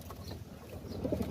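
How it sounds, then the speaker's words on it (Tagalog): Pigeons coo softly in a brief, faint burst of low, throaty calls heard at a slight distance. "nandito na yung kalapati natin."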